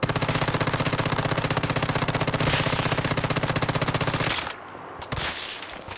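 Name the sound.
M416 rifle burst fire in the Once Human video game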